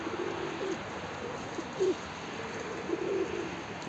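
A young Kızma pigeon with a full mirror tail gives a few soft, low coos in short bursts, faint against a quiet outdoor background with no talking.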